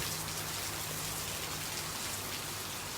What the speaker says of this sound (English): it's raining like crazy. Woo! Just started raining